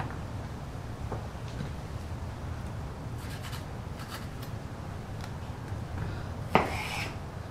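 A knife cutting into a bell pepper on a board: soft scraping and rubbing strokes with a few light taps, then one sharper crisp cut near the end, faint and close.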